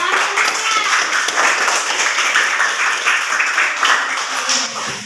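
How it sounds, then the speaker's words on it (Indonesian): Elementary school pupils clap together in a classroom, a quick, slightly ragged rhythm of many small hands sounding close and lively for several seconds. "Iya, bagus. Tepuk tangan."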